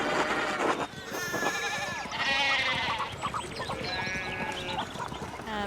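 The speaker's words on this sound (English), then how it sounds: "we need to get these sheep under control" Sheep bleat repeatedly in the farmyard of the video game Pentiment, layered over game music and background sound. The calls stay fairly loud and close throughout, and other game sounds blend in around them.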